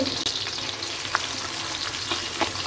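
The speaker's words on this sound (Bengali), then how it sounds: "পেঁয়াজ আমার ভাজা হয়েছে" Steady frying sizzle of onions in a pan, close and even, with a few soft clicks of stirring throughout.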